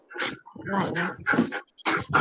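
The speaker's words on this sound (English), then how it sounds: "I just heard her doggy saying hi." A pet dog on a video call gives short whimpering yips and little bark-like sounds, close to the microphone and in quick clustered bursts.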